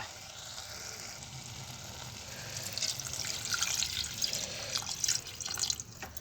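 Water poured into a pot of slow-cooked mutton curry gives a running, splashing stream that grows louder toward the end, heard close and alone.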